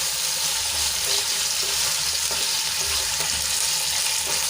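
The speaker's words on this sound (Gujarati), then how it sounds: "હવે ભીંડાને એડ કર્યા બાદ આપણે તેલમાં સરસ રીતે એને મિક્સ કરી લઈશું।" Sliced okra (bhindi) sizzles in hot oil in a pan over a low flame, a steady bright hiss with a few soft scraping stirs, close and alone with no talking.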